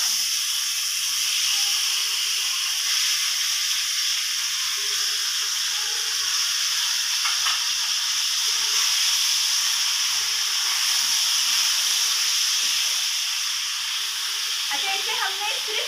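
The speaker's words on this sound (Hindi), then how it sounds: "ऑयल में पहले अच्छे से भूनना है, ठीक है, सिर्फ चिकन को" Chicken pieces fry in oil in a kadhai with no salt or spices added, hissing and sizzling steadily up close, while a faint voice murmurs now and then.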